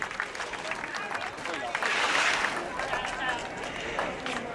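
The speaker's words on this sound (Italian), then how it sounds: "Mamma e figlio, ma meritano un applauso" Crowd at the Festa di Sant'Erasmo prize-giving on a Venice island applauding a seventh-placed mother and son, steady clapping that swells briefly in the middle, with a voice talking over it.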